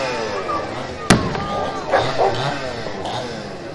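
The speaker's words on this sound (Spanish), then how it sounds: "los cohetes son los que les dan más terror a ellos que las mismas máscaras." A single sharp, loud firework or rocket bang cracks out during a Day of the Dead street parade in Zempoala, Hidalgo, with crowd noise and chatter continuing around it.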